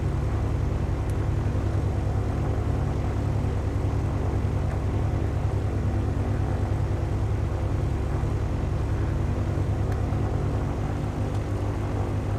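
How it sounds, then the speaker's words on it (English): A simulated propeller plane in Microsoft Flight Simulator X descends toward the runway to land, its steady droning engine hum running loud and unbroken throughout with no talk. "start descending this plane"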